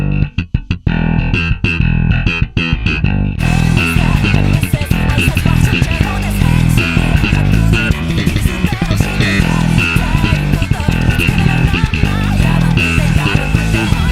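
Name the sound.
bass guitar slap and pop bass line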